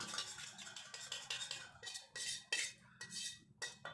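A spoon stirs a homemade plant pest spray of vinegar, shampoo and turmeric in a container. Close, rhythmic scraping and light clinking strokes repeat in quick bursts, with no voices.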